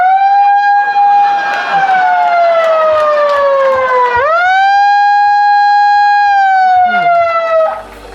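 An electronic emergency siren, set off with a button, wails loudly close by. Its tone glides down, then sweeps sharply back up and holds before fading out at the end.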